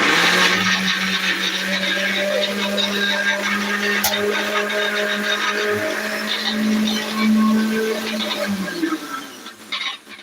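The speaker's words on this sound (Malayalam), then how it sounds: "വെള്ളം കൂടെ ഒഴിച്ചിട്ട് നമുക്ക് ഇതാ മിക്സിയിലേക്ക് വെച്ചു കൊടുക്കാം" An electric mixer grinder whirring steadily as it blends tapioca masala paste with water, a loud, close motor drone that holds for about eight seconds, then winds down and stops.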